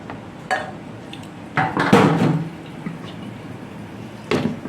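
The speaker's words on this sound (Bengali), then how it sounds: "এবার এটাকে একটু নেড়ে ঢাকা দিয়ে দেবো।" Hilsa fish curry gets stirred and its pot covered with a lid, giving a few separate metallic clinks and scrapes, close and moderately loud, with quiet gaps between them.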